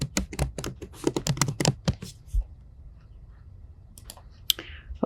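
Names are typed on a computer keyboard in a rapid burst of close, crisp key clicks, followed by a quiet pause and a few scattered final taps.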